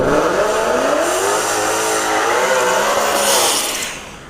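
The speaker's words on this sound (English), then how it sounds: "You hear that blower go off?" Drag car with a supercharger blower revving at a test-and-tune session at ShowTime Dragstrip: a loud, continuous, rising and falling engine roar with whining harmonics lasting several seconds, then easing off toward the end.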